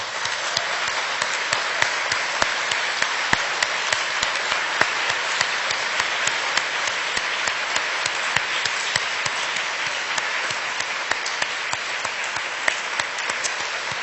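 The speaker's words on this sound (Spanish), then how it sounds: "Démosle un aplauso fuerte al Señor" A church congregation claps together, a dense, steady applause that keeps an even level for the whole stretch, with a few sharper hand claps standing out.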